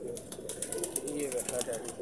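Pigeons cooing in a loft, low soft coos repeating under faint background clicks and rustling.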